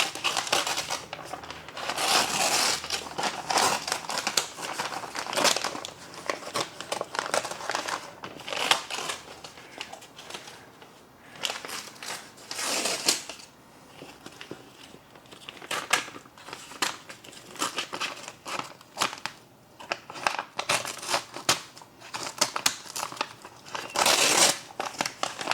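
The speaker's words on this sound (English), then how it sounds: "I'm just going to cut away all this brown wrapper and tape" Scissors cut away double-wrapped brown paper and tape from a package, giving steady loud crinkling, tearing and snipping bursts for the whole stretch without pause and with no voices.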